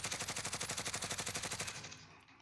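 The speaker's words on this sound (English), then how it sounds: "So if I come over here and I shoot this right here" Rapid automatic fire from the Growl rifle in Warzone: a steady burst of about twenty evenly spaced loud shots over two seconds, then a short fading tail, with no talking.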